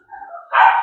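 A single muffled dog bark from downstairs, preceded by a soft whine, sounding somewhat distant as though through a wall.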